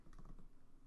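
Brief burst of several quick keystrokes tapped on a computer keyboard, close and alone, under a second long.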